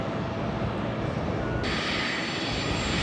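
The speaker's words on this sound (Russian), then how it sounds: "Почти синхронно на перрон выруливают 2 самолета, чтобы отправиться обратно." Airliners taxi on the apron at Tashkent airport, and a loud continuous jet engine roar with a steady whine holds close and unbroken throughout, with no talking.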